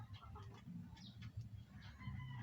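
Soft clucking and low chicken calls come in scattered bursts, faint against a quiet, rumbling background.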